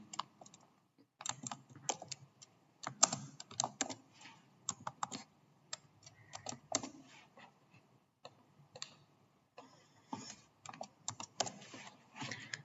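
Steady bursts of typing on a computer keyboard while a lab name and address are entered into a pop-up, irregular clusters of key clicks with short pauses, close and clear with no talk.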